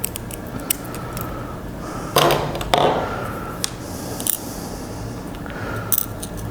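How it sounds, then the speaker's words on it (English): Sharp snips of a glass nipper trimming the edges of fused glass pieces for a candy dish, a few crisp cutting clicks and scrapes close by, with a quiet room hum between them. "I'm just going to nip off those edges just to help it look a little more round at the tip."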